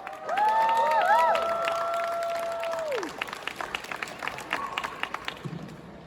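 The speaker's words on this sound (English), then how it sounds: "they were cheering pretty loud for you right there" An audience at a Spookala 2023 convention panel cheers and applauds as a guest comes onstage. Loud tonal whoops and shouts ring out early, then fade into scattered claps that taper off over several seconds.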